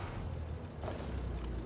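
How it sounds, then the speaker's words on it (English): Water flows continuously into a greenhouse in Farming Simulator 25, a dense, steady rushing hiss with no break, fairly loud and alone. "you can hear the water constantly going into the greenhouse"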